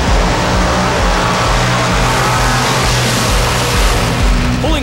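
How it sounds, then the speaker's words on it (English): A nostalgia funny car, the Red Dragon, idles loudly at the starting line of the Famoso Raceway drag strip in Bakersfield, California, during the NHRA March Meet, its engine a deep, rough, pulsing rumble that stays loud and close throughout. "Pulling up to the starting line in his nostalgia funny car Red Dragon is Tom Padilla."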